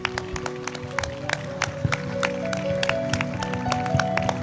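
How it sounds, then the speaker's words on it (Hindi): A church congregation claps at a worship service, a scattered patter of hand claps of uneven rhythm with a faint hum and murmur of voices underneath. "जोरदार तालियों के साथ धन्यवाद दें"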